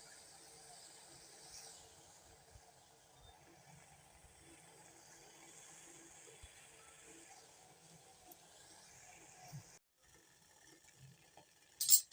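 A pot of water with seven or eight tulsi leaves boils for sugar-free tea, giving a faint, steady hiss and low simmering rumble with a brief clatter at the very end.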